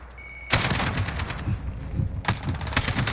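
Automatic weapon fire in Modern Warfare with heavy recoil, a loud burst starting sharply and continuing in rapid shots, with a second sharp burst later, close and dominant.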